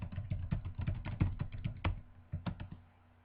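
Someone typing a message on a computer keyboard, a close run of quick uneven key clicks that slows toward the end, with no voice.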